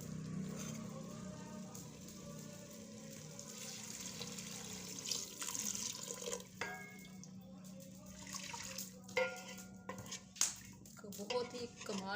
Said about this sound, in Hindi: तो अब इसमें हम पानी डाल देंगे।